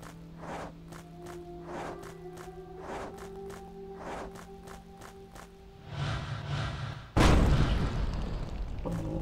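Fire potions in the Ada video game go off as thumping bursts, the last one loud and close, after a stretch of regular footstep-like thuds over a humming background.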